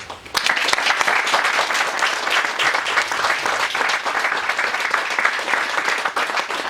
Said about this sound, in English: In fact, they applaud you.